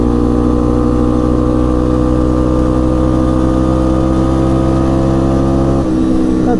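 An ATV engine pulls hard in first gear, loud and close, with a steady droning roar that holds its pitch. Near the end the note drops abruptly as the rider shifts up.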